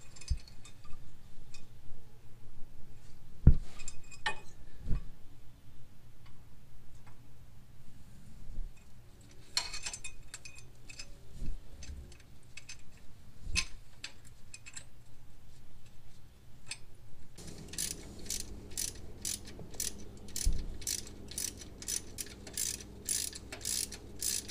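An oil pickup tube being refitted beneath a GM 4.2L engine, heard as sparse metallic clicks and taps, then a steady run of rapid ratchet-like ticking toward the end, all faint and without speech.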